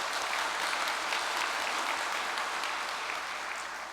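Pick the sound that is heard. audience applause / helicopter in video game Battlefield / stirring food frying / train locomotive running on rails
audience applause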